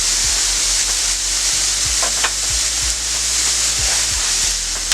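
Vegetables sizzle steadily on a hibachi griddle at home while a spatula scrapes and taps the metal in regular strokes, close and loud with no talking.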